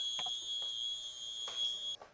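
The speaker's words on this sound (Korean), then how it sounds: "그래서 저수위경보 스위치가 동작을 하는 겁니다." A low water level alarm on a fire pump priming tank sounds as a steady, continuous high-pitched electronic tone with no break, ending abruptly near the end. Faint clicks and handling noise sit underneath it, and no one speaks.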